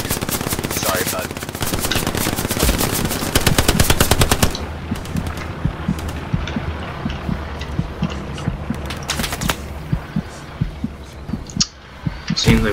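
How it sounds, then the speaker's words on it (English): Sustained automatic machine gun fire in the World War II shooter game Hell Let Loose, rapid loud bursts for several seconds, then scattered distant shots and battlefield rumble. "Seems like we got a machine gun on our hands."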